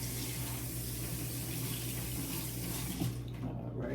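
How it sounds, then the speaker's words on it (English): Hands rinsed under a running kitchen tap during cooking: a steady, close rush of water that shifts slightly near the end. "I need to rinse my hands."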